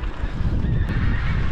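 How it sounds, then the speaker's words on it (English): Thousands of geese gathered near Tantallon Castle in Scotland, giving a steady, dense wash of honking calls from a large flock, continuous and fairly loud throughout the brief moment. "That's even more geese. There is thousands and thousands of geese up here."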